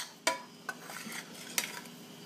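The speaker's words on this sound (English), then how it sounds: "It's that simple to make churro batter. Just keep mixing that around for a couple of seconds." Churro batter being stirred in a pan, with a few sharp scraping clinks of a utensil against the pan over a faint soft background, quiet and close.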